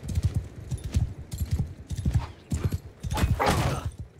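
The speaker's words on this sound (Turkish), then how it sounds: "Oo, atlar var." Horses galloping in the video game Mount & Blade II: Bannerlord: dense, loud hoofbeats in a rapid clip-clop rhythm with a brief whinny, and battle noise rising near the end.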